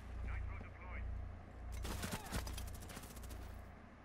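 Gunfire in the Rainbow Six Siege video game comes as a brief, loud burst of rapid shots partway through, with a voice talking before and around it.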